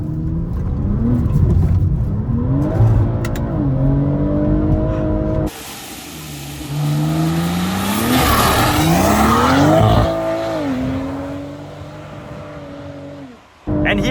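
BMW M340 driven hard on a race track, engine revving and dropping as it brakes, with tires squealing and skidding through the corner; loud, close and continuous with a brief cut in the middle.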